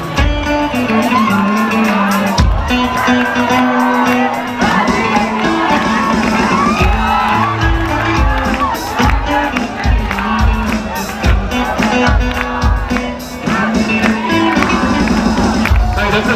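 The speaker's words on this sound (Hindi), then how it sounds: "बहुत प्यारी ये सैक्सोफोन प्लेयर मोमिता जी के लिए ताली हो जाए" An audience at a live event at Rajdevi temple in Janakpur cheers, shouts and claps loudly for a saxophone player, a dense continuous crowd roar with whoops and voices all through.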